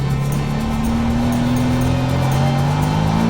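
A Mini Clubman drives along with a steady, loud engine drone and a hum that rises slightly in pitch as it accelerates, heard from inside the car with constant road noise.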